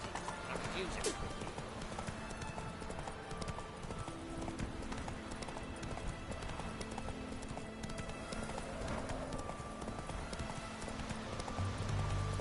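Hooves of Roach, the horse in The Witcher 3, clip-clop in a fast, steady galloping rhythm throughout, with a voice speaking over the hoofbeats.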